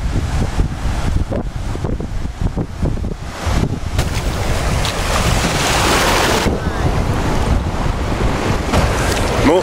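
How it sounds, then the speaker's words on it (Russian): Strong, warm wind buffets the microphone by the sea in Egypt, a loud rushing roar over the wash of surf. "Реально, сейчас ветер. На море ветрено."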